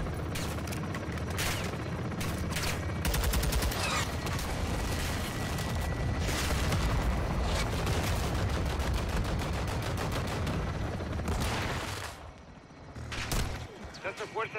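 Artillery fire mission in Call of Duty: Modern Warfare II, a dense, continuous barrage of booming blasts and rattling gunfire sustained for over ten seconds, easing briefly near the end before more impacts, with voices talking through it.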